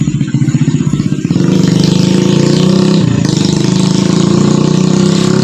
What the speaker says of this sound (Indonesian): Sebentar guys, ada motor ini ganggu aja.